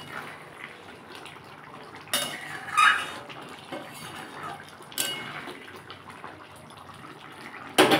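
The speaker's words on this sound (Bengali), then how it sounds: "আমি এবার একটু গরম মশলা দিয়ে দেবো উপর দিয়ে। একটু নাড়িয়ে দিলাম।" Mutton curry in a pot being stirred after garam masala is sprinkled on top, with a spoon scraping and clinking against the metal in a few short bursts over a quiet background.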